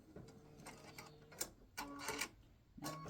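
An embroidery machine stitching a Father's Day greeting card runs in quiet, uneven bursts of mechanical whirring and tapping, with brief louder rattles and pauses between passes, close by and with no talk.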